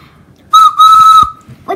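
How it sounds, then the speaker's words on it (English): Two short, shrill whistle toots sound close up, a brief blast followed by a longer one, with quiet background between them. "Do you want to hear my whistle?"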